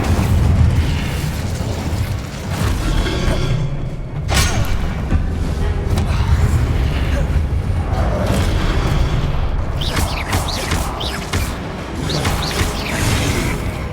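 Incendio fire spell cast during combat in Hogwarts Legacy, a dense stream of booming bursts and crackling magical impacts over constant game rumble, loud and continuous with no clear pauses.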